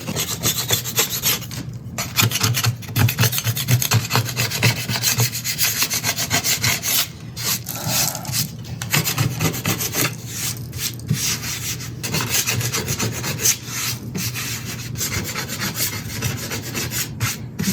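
A putty knife scrapes a wooden board flat in a woodworking shop, a steady rasping stroke after stroke for the whole stretch, close and loud with no talking.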